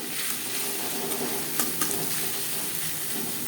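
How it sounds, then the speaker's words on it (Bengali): Chopped onion and slit green chillies frying in refined oil for a data shak bhaja, a dense steady sizzle and crackle at close range with faint stirring. "এবার দিয়ে দেবো পেঁয়াজ কুচি আর দিয়ে দেবো চেরা কাঁচা লঙ্কা।"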